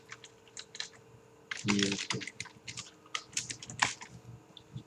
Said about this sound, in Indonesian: Pertama kita ketik YouTube.